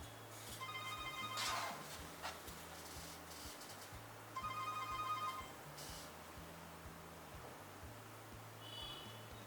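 An Infinix Note 5 phone ringtone for an incoming call plays in short melodic bursts, pausing between rings, fairly quiet over a low background hum.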